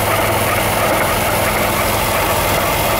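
A supercharged V8 in a 2000 Jaguar XJR sports sedan runs at a steady idle with the hood open, loud and close, its dense mechanical whir and ticking continuous throughout.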